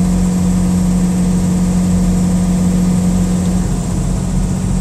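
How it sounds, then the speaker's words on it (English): A loaded flatbed truck holds its Jake engine brake on a mountain descent, a loud, steady, unbroken low drone with a constant pitch that continues through the stretch without pause. "All I'm doing, if y'all can hear it, I'm riding the Jake."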